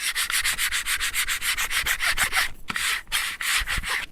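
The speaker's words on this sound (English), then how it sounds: "So just move it over, give it another good rub on the back." Steady rhythmic rubbing on the back of a Cricut design transfer, a brisk back-and-forth scrubbing close by with a brief pause partway through.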